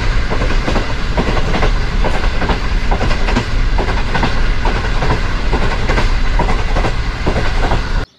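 Train arriving at Mari Indus railway station in Pakistan, a loud, close, continuous rumble of railway cars with rhythmic clickety-clack of wheels over rail joints, steady throughout and then cutting off.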